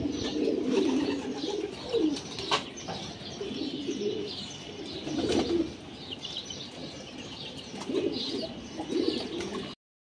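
Pigeons in the sun after a Saturday bath, cooing repeatedly in low rolling bursts alongside chirps and the occasional flutter of wings, close and clear without any talking.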